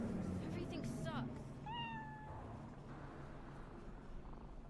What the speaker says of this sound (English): Aw. Little kitty.